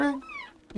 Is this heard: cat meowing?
yes